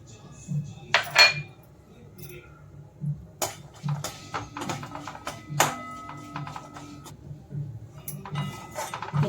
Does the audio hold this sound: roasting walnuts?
yes